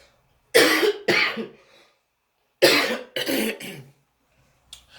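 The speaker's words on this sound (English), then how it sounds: "hold on, I have to cough again" A person coughing after inhaling wood dust while woodworking, two bursts of harsh, close coughs, each a pair of hacks separated by a pause, with a faint breath at the end.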